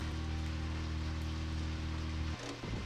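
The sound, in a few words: rain falling in video game Deadly Premonition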